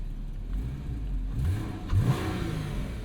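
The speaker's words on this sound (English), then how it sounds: "Engine sounds healthy." A Porsche Boxster engine revs up briefly, a low mid-pitched rise and fall near the middle, over a steady idling rumble.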